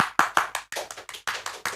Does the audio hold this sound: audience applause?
yes